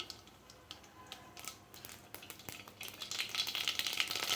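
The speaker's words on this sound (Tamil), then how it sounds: "இப்போ இந்த எண்ணெய் சூடானதும் கடுகு கொஞ்சம் போட்டுக்குவோம்" Mustard seeds crackle and pop in hot oil in a kadai, a faint scatter of tiny bursts that thickens into a denser, brighter spluttering toward the end.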